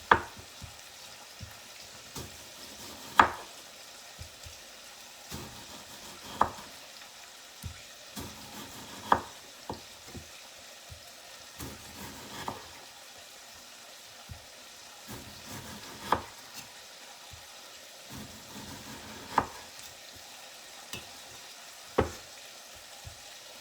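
Half a frozen red onion fries quietly in a pan for a pork chop and potato casserole, a low hiss broken by sharp spatula knocks every few seconds, with no talking.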